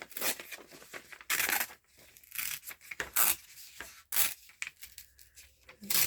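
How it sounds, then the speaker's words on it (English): Paper being torn by hand for a junk journal, several separate ripping strokes of varying length, close and fairly loud, with brief pauses between tears and no talking. "Let's tear a piece."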